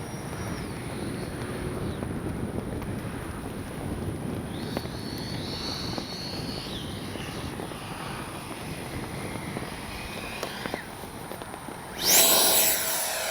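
A Freewing F9F-8 Cougar RC jet with its electric ducted fan flies past outdoors, a steady whooshing drone that shifts slightly as it circles, ending in a louder nearby rush, with no talking.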